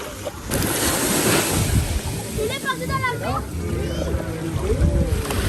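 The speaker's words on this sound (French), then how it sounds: "un déjeuner royal sur la plage" Surf and sea breeze on a beach at Grande-Terre, Guadeloupe, a constant wash of waves with wind noise on the microphone, while people talk and a high voice chatters over it nearby.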